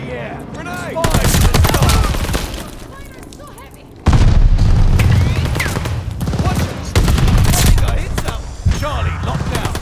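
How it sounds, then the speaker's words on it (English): Call of Duty Vanguard gameplay: dense rattling gunfire with heavy booms and a grenade blast, loud and continuous, with brief lulls and voices calling out over the combat. "Grenade!"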